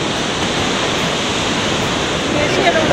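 Roar of the 230-foot Poorva waterfall near Rewa, a loud, dense, unbroken wash of falling water like heavy rain, steady throughout and close by.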